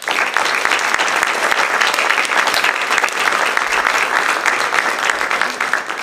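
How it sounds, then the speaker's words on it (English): Sustained applause from the audience at a school board of education meeting honoring 25-year staff honorees, dense, steady clapping filling the room for the whole stretch without a break. "please join me in giving all of our 25-year honorees a well-deserved round of applause"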